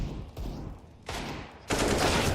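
Bursts of gunfire in a CS:GO professional match at ELEAGUE Major Boston 2018, with sharp shots and loud sustained volleys growing denser toward the end.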